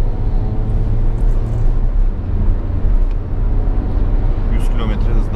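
Peugeot 2008 1.2 PureTech engine pulling steadily under throttle while driving, a constant low drone with road rumble and cabin noise throughout, loud and close, with a voice talking over it.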